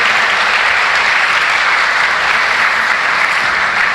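A church congregation applauding a minister, dense sustained clapping from a large crowd, loud and even throughout with no voices standing out.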